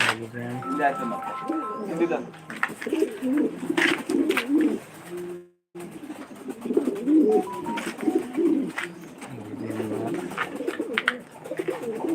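Pigeons at a pigeon farm, Black Beauty breed among them, cooing in low throaty rolls close by, overlapping someone talking throughout with a brief dropout midway.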